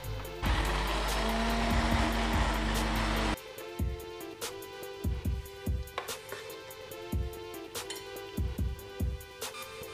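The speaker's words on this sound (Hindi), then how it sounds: "ब्लेंडर कर लेंगे।" An electric blender whirs loudly for about three seconds as it mixes sugar and cooking oil into cake batter, then stops. Sharp clinks and knocks from handling the jar follow.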